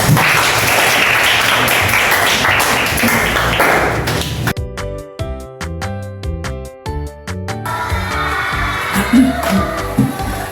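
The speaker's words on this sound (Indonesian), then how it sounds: "Tepuk tangan untuk diri kita." Dense clapping from a group fills the first few seconds, then gives way to a run of bright, evenly spaced chime-like tones before noisy clapping resumes.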